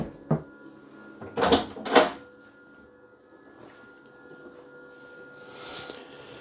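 A full-extension ball-bearing drawer in a 2024 Riverstone 39RKFB Legacy Edition rear-kitchen fifth wheel RV gives a short knock, then two quick sliding clacks of opening and closing, followed by a faint rustle in a quiet interior.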